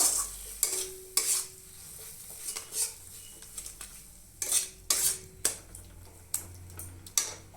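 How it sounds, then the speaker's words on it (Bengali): A spoon knocks and scrapes against a pan as a paste of ground white mustard and dried chillies is fried, giving repeated irregular clinks and scrapes over a faint sizzle, close and fairly quiet. "এবার মশলাটা ভালোভাবে কষিয়ে নেব"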